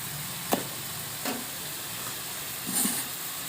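Red chili powder and spices fry in a hot pan with a steady loud sizzle and hiss, broken by a few brief clinks of stirring.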